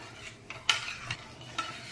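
A spoon scrapes and clinks against a pan of boiling sugar syrup for jalebi in a few soft, separate strokes, with a faint bubbling hiss underneath.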